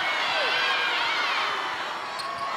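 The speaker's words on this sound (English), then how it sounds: "Listen to the crowd." A big arena crowd roars and cheers at a Suncorp Super Netball match between the Vixens and Magpies. The loud, dense wall of noise stays steady for the whole stretch, with a slight dip near the end.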